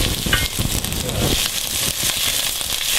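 Minced garlic sizzles in hot olive oil in a pan, a steady close crackling hiss with occasional stirring scrapes.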